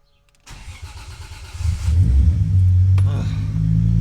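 A Nissan Skyline engine cranking after a fuel-system repair, then catching and settling into a rough, rumbling idle. It is close and loud, with a short starter whir first.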